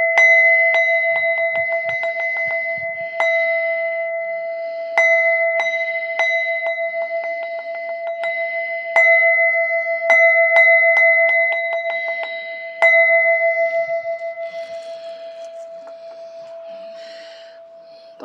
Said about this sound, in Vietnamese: Cái chuông này là thanh âm, là pháp khí.